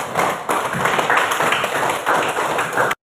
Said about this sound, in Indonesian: Kita berikan tepuk tangan untuk teman kita yang sudah